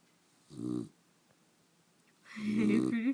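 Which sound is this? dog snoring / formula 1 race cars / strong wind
dog snoring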